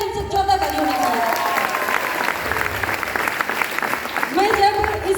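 A crowd at a company gathering claps loudly and continuously, a thick wash of applause over a few brief voices, swelling and staying strong for the whole stretch.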